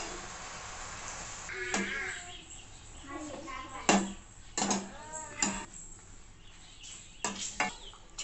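Gongura leaves stirred as they fry in a pan, with scattered scraping clatters of a spoon against metal at an uneven pace, under talk.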